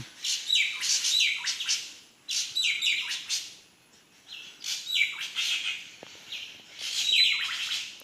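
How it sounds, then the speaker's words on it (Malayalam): Many birds in and around a large tree near Akathiyur, Thrissur, chirp and tweet in dense, overlapping bursts of high, bright calls, some squawking, with brief lulls between flurries and no voices. "കുറേ കിളികളുണ്ട്"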